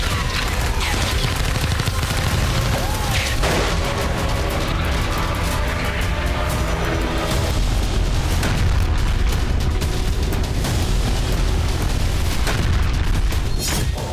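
Loud, continuous booming and rumbling from rocket and missile explosions during attacks on Israel, a dense barrage with no gap.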